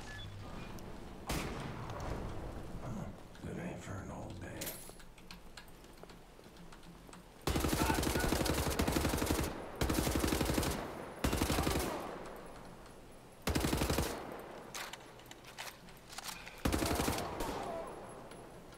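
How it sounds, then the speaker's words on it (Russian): Gunfire from an old woman enemy in Wolfenstein: The New Order: loud bursts of shots with sharp broadband attacks. The bursts come in separate blocks of about one to two seconds, with quieter game ambience between them. "А бабуля, оказывается, громко выстрелила."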